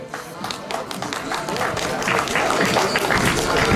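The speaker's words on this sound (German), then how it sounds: "Wir begrüßen die Vorarlberger mit einem herzlichen Applaus in unserer Mitte." A crowd at a cycling race in Burgenland greets an arriving team with steady warm applause, a continuous patter of many hands that swells slightly, mixed with a voice talking over it.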